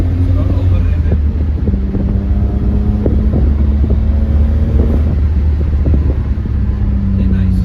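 A BMW E30 333i engine being revved, a loud, low, continuous engine drone with rising and falling pitch as it is squeezed, captured close with some wind buffeting.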